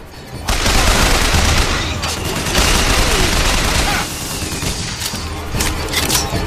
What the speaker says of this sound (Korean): 누가 나를 쏘고 있지?